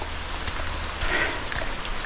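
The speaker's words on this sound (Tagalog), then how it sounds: "Ulan." Steady rain falls continuously, a soft even patter on surfaces close by, with a few brief louder spatters and no voices.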